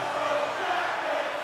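A hockey arena crowd in NHL 24 keeps up a dense, continuous roar of cheering and murmur, steady and uniform with no single voice standing out.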